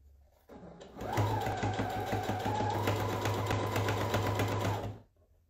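A domestic sewing machine stitches fabric for a mermaid-tail pouch: a loud, steady whirring run of rapid needle strokes for about four seconds, starting and stopping abruptly, close up, with no talk.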